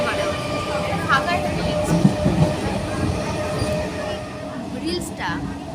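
A passenger train runs with a steady rumble and clatter of wheels on the rails, with a few brief squeals, while people talk quietly nearby.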